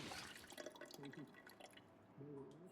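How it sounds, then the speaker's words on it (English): Water running from a tap into a container in the zombie survival game Project Zomboid, a steady liquid wash under intermittent talk. "Fill up our water."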